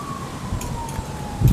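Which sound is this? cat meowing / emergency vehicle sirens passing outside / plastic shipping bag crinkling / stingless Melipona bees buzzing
emergency vehicle sirens passing outside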